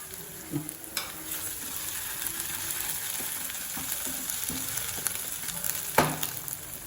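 Onion, green chili and ginger garlic paste sizzle and fry in a very hot pan, a steady close crackle with occasional stirring clatters and a sharper spatula scrape near the end, with no talking.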